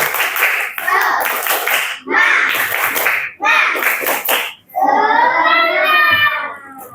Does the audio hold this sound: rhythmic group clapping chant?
yes